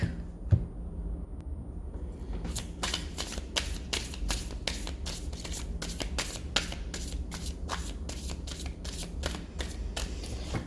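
Mermaids Tarot cards being shuffled by hand, a quiet rustle at first and then a steady run of crisp, rapid riffling flicks repeating close up, with no talking.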